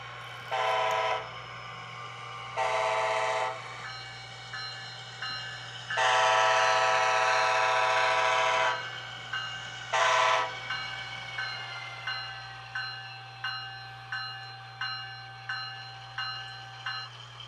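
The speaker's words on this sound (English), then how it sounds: "I did pick up the one with DCC and sound," A Bachmann Siemens SC-44 Charger model locomotive with DCC sound, its horn sounding in several blasts of varying length, one long, followed by a steady run of rhythmic bell dings over a constant low motor hum.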